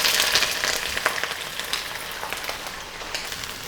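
Onions fry in hot oil in a pan for Pakistani beef biryani, a loud, dense crackling sizzle with scattered pops that continues steadily throughout.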